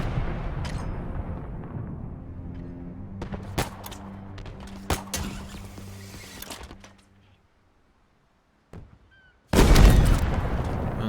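Halo Infinite combat rings out with several sharp gunshots and booming impacts over a fading rumble, followed by near silence and then a sudden loud blast of noise.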